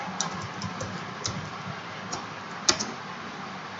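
Close, steady typing on a computer keyboard while entering Python code, a run of light irregular key clicks with one sharper tap near the end, no voices.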